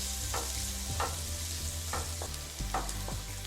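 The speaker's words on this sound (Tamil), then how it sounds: "வெங்காயம் நல்லா வதக்கிடுங்கம்மா." Onions, ginger and garlic sautéing in a pan for chicken 65 gravy, a constant close sizzle broken by several scraping stirs of a spoon, no talking.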